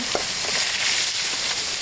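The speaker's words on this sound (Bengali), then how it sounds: "ভালো করে উল্টে পাল্টে দিচ্ছি, লাল করে ভেজে নিচ্ছি" Fish frying in hot oil while being turned until browned, a steady close sizzle with brief crackling pops throughout, no voices.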